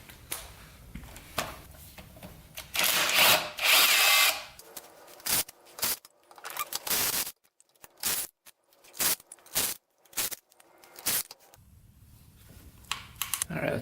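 A power tool backs bolts out of a big-bore Yamaha YFZ450 quad in short loud whirring bursts separated by pauses, close by, with clicks and clatter between the runs.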